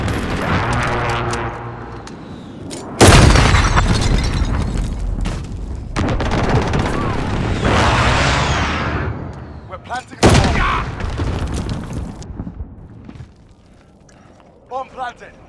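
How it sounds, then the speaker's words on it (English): Precision airstrike explosions in Call of Duty: Modern Warfare, several heavy booming blasts with rumbling decay, mixed with gunfire, while voices talk over the action. "Friendly precision airstrike on the way."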